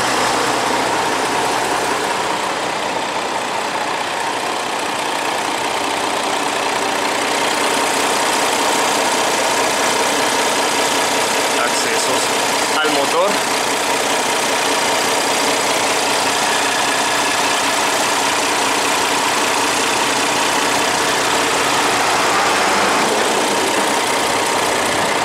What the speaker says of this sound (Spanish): Silencioso motor Isuzu